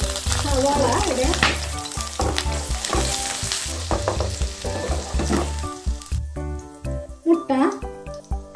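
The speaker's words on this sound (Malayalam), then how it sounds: "ഒരു പാന് വെച്ച് ഓയിൽ ഒഴിച്ച് അതിലേക്ക് വെളുത്തുള്ളി ചേർക്കാം. പിന്നെ ഇതിലേക്ക് സവാള ഇടാം." Onions and garlic sizzle loudly in a pan of hot oil, with a continuous crackling fry and stirring scrapes close by, while a person talks over much of it.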